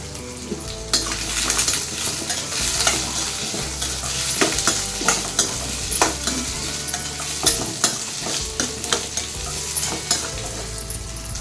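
Green chillies, garlic and ginger sizzle loudly in a pan for egg masala while a spoon scrapes and clinks in repeated stirring strokes, close up and with no voices.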